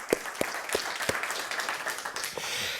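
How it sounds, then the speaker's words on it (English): Applause from a studio audience in central London after a business keynote talk, a steady wash of many hands clapping at close range, with a few sharper individual claps standing out. "Warm applause here in our central London studio."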